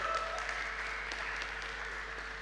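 An audience at a hackathon event in Melbourne gives a round of applause, a soft, fairly distant wash of clapping that holds steady and tapers slightly toward the end, heard alone without talk.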